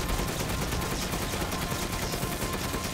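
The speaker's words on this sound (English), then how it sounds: "Cannon shot." Heavy cannon fire during a boss fight in the video game Resident Evil Village, a dense continuous barrage of booming blasts with no pause across the whole stretch, loud and close.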